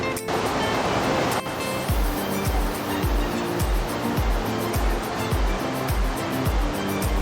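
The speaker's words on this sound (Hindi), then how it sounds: "इस प्रयाग में जो उस तरफ से नदी आ रही है ये है पिंडर नदी, और जो इस साइड से आ रही है तो ये है अलकनंदा नदी" Rushing water at the confluence of the Pindar and Alaknanda rivers in the Uttarakhand mountains, a loud, constant broadband roar with a faint, regular low pulsing running beneath it.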